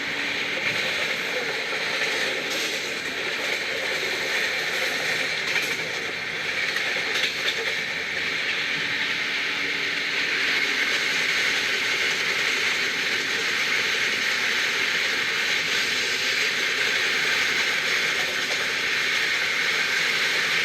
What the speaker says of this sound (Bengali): আমাদের ট্রেন এখন ক্রসিং করছে ডিমা চা বাগান